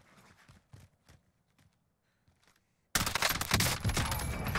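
Gunfire in Call of Duty Warzone: a few faint, scattered distant shots, then a sudden loud, sustained barrage of rapid gunfire that fills the rest of the moment.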